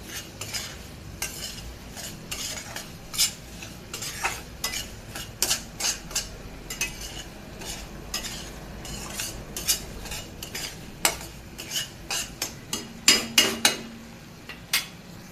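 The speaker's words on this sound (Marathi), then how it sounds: "नंतर त्यावर तूप टाकून परत आपण भाजून घेऊ" Semolina roasting in ghee in a pan over low heat for mango sheera, with a spoon repeatedly scraping and clinking against the pan under a soft sizzle, close and steady, with a few louder clatters near the end.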